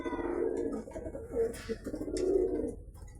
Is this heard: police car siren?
no